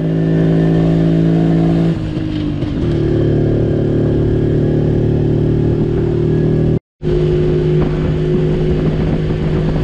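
A Jawa 250 kývačka motorcycle engine runs loud and close, with a steady droning tone that climbs in pitch as it accelerates, then holds at a higher, rougher pitch after a brief dropout.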